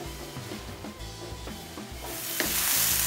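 Vegetables frying in a pan with a little wine while meat cooks for a beef dish: a steady sizzle with stirring scrapes and soft utensil knocks, close and continuous, growing louder and brighter near the end.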